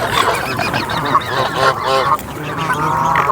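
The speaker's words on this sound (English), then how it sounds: "I'll give you a quick view of all these geese. It's just rammed full of them." A crowd of geese honks repeatedly and loudly at a country park lake, overlapping calls rising and falling continuously without pause, with swans nearby.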